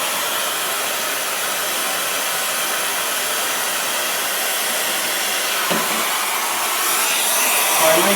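A brazing torch or heater roars steadily as it heats a replacement carbide tooth on a saw blade, a loud continuous broadband hiss that swells slightly near the end.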